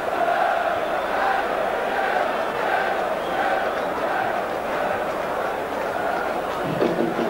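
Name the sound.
football crowd at Upton Park on an FA Cup night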